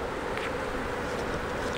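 Honey bees buzz steadily around an open hive during a queen transplant to a swarm, a dense, continuous outdoor hum at moderate level with no voices.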